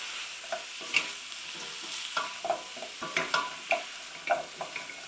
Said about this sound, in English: we need to give it all a very good stir